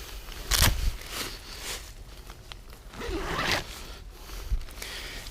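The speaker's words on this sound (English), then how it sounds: "This unzips." Zipper being pulled open on the door of a OneTigris Black Orca three-season bushcraft tent, several quick rasping zips with rustling fabric between them, close and clear with no talk.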